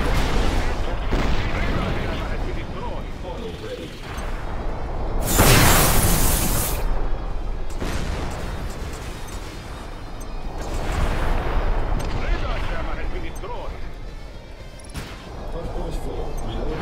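Heavy anti-aircraft gunfire and explosions in the combat flight game Project Wingman, a dense continuous roar of booms and rumbling blasts with one sharp loud burst midway.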